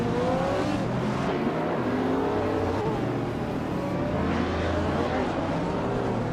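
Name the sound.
Porsche Carrera GT race car engine, racing video game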